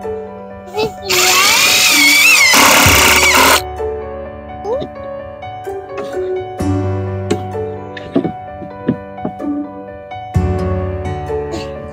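Power drill driving screws into a wooden platform, with one loud, close whirring burst lasting about two seconds followed by clunks and knocks of handling. People talk throughout.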